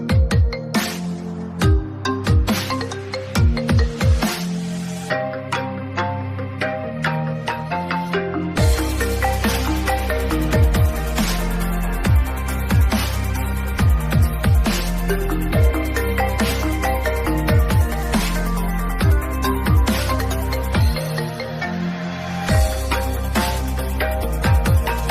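An iPhone ringtone plays as a continuous electronic music track with a punchy beat, a deep bass line and repeating melodic notes, loud and close throughout.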